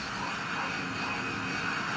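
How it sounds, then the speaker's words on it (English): KLM Boeing 747 jet engines in the Roblox flight game PTFS, heard while plane spotting at St. Bart's: a steady, broad engine roar that continues without a break for the whole stretch and holds at a moderate level. "So it looks like we have a KLM 747."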